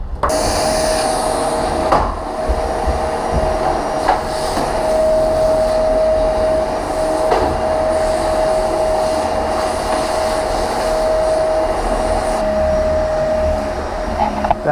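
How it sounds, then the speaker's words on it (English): A vacuum cleaner runs steadily during cleanup of a vinyl floor remodel, a loud constant whine with a sustained tonal hum and airy rush, close and uninterrupted, with faint knocks of the hose moving. "That vacuum is not the right vacuum for this job"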